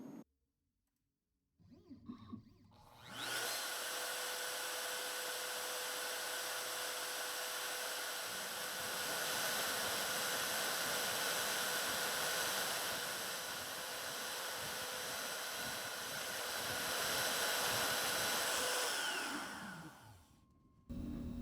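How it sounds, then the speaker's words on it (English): A CNC router cuts wooden pieces in a steady, loud, high-pitched whine that holds for about sixteen seconds with slight swells, then spins down and stops, with near silence before it starts. "take it over to my CNC and cut those last two pieces out"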